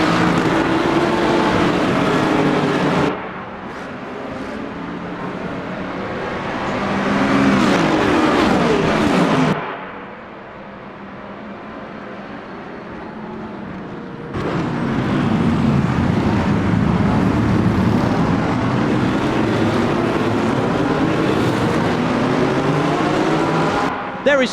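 Race cars accelerating off the start in Le Mans Ultimate at Fuji, a loud roaring field of engines rising and falling with gear changes, dropping briefly twice before surging again, with a commentator talking over it.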